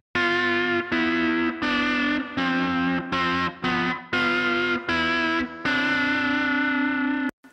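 A Strat guitar through a Line 6 Helix preset with distortion, bubbly vibrato and digital clipping plays loud, choppy sustained chords in short bursts separated by brief gaps.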